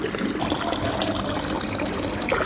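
Cold drinking water gushes steadily from a free public fountain in Granada, Spain, a close, continuous splashing rush with no talk over it.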